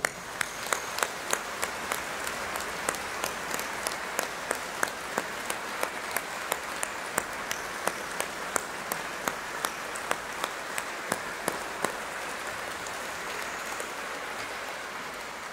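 A congregation in the basilica at Jasna Góra applauds warmly during a pilgrimage Mass, giving sustained, even clapping with sharp individual claps standing out rhythmically throughout, before thinning toward the end.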